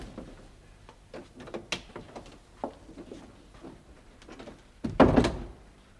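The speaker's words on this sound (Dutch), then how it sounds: "En ik zal de deur op slot doen." An indoor door shuts with a firm thunk near the end, after a few soft knocks and handling sounds, in a Dutch television comedy scene.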